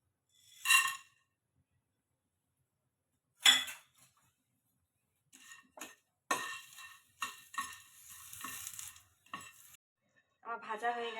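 Whole spices (peppercorns, cinnamon, cardamom, cloves and bay leaves) frying in a pan, with stirring scrapes and crackles in short separate bursts, then denser clattering toward the end.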